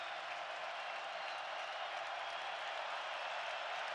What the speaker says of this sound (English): Crowd coming to life here on 4th and 3.